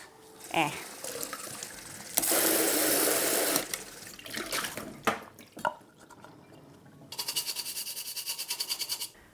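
Water rinses through a small plant pot dripper during houseplant care, a steady splashing gush of about a second and a half, then scattered drips and handling noises, with a second pulsing run of water near the end.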